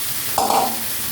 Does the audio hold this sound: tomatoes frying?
yes